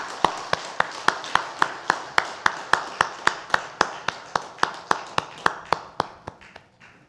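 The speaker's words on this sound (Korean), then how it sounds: "하나님께 영광의 박수 올려드립니다" A church congregation claps in unison, sharp evenly spaced claps about three per second, steady and clear in a reverberant hall, gradually fading toward the end.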